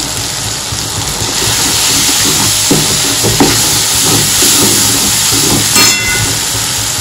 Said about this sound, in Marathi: मसाला चांगला भाजत आहे